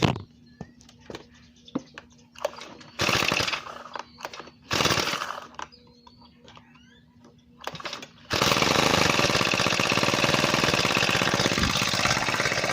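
A four-stroke foldable scooter engine sputters and cuts out in short bursts with clicks and gaps, then catches and settles into a loud, steady, close-up rattling idle as it warms up.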